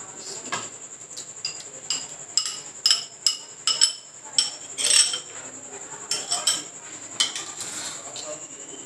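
A spoon stirs a mashed potato mixture with added yogurt in a bowl, making close, repeated metal clinks and scrapes in an uneven rhythm.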